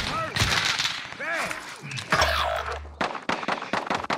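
Rapid video game gunfire on Warzone Rebirth Island, sharp repeated shots in quick bursts with ringing tails and a low rumble, loud and close, while a voice speaks briefly in between.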